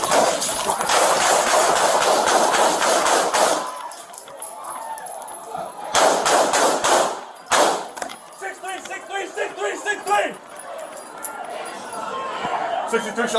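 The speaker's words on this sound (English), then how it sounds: "Sixty-three shots fired." Police gunfire, many shots fired in long rapid bursts, loud and close, with shouting voices mixed in between the volleys.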